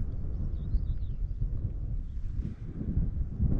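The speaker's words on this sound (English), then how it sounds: "The lulls are getting longer, which is good because it has been quite windy." Steady wind rumbles and buffets across the whole stretch at Hamilton Hill, a low roar with gusty swells and no other clear sounds.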